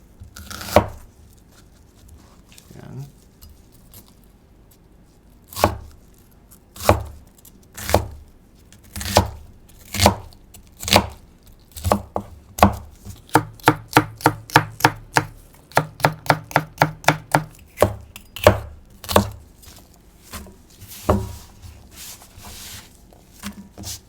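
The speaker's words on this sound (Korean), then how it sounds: "양파는 제가 한 2분의 1개 준비했는데 3등분 해줄게요" A knife chopping onion on a board, steady single cuts at first, then a fast run of rapid chops, then slower cuts again, close and clear.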